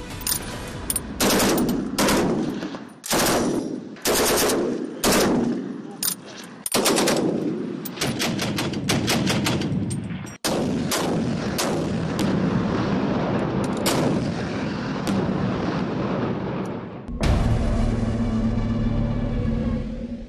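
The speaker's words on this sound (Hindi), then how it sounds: "पूर्वी बॉर्डर भ्रमण में सबसे पहले इस मोर्चे पर भारतीय सेना के फायर पावर से आपको रूबरू कराते हैं" Indian Army machine guns and artillery fire on a high-altitude front in the Tawang sector, a rapid series of loud, sharp bursts and booms echoing across the mountains, with denser sustained firing toward the end.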